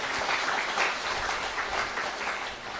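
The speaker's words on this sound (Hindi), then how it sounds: "तो अपने लिए ताली बजा लीजिए।" Steady, dense applause from a conference audience fills the whole short stretch, a continuous wash of many hands clapping at even loudness with no talking.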